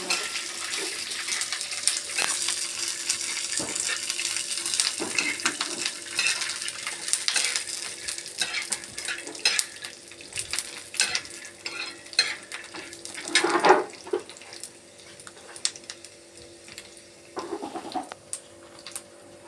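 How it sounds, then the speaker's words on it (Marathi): Peanuts fry in hot oil with a crackling sizzle, broken by scraping and clinking of stirring, with a few louder clatters toward the end; no voices. "शेंगदाणे तळायला टाकली मी."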